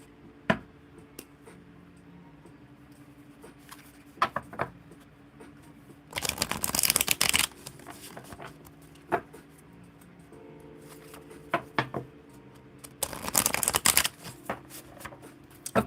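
A tarot or oracle card deck being shuffled, with two loud riffling bursts standing out above quiet ticks and handling noises nearby.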